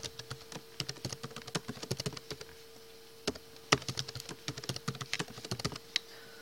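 Quick, irregular keystrokes on a computer keyboard entering a root password, close and fairly quiet, clattering in short bursts with a brief pause midway.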